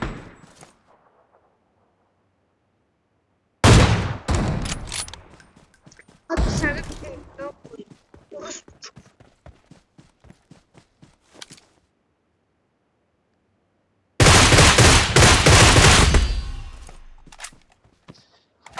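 Bursts of rapid gunfire from a shooting video game erupt in several loud volleys separated by silence, with one long sustained burst near the end.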